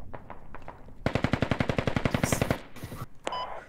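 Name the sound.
gunfire in a video game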